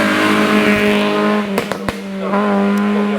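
A Peugeot race car idles loudly at the start line of the Dolé hill climb in Gourbeyre, its engine a steady low harmonic drone with a few sharp revs and blips near the middle, close and continuous.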